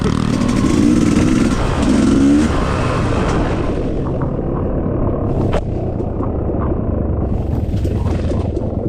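A trail motorcycle engine rumbles loud and close during river-crossing riding in Bulacan, holding a steady throaty drone with brief revs early on and no talk over it.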